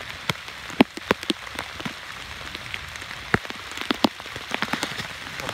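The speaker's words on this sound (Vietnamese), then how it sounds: "Mưa quá mưa rồi các bạn." Rain falls steadily during a storm by the Hậu River, a dense patter of drops with sharper splats striking a nearby surface, continuous and fairly loud with no talk.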